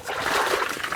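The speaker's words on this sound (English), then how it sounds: "Ooh, splashing." Water splashing and trickling at a river fishing match, a steady close splatter running through the whole second, likely as the catch is tipped back in.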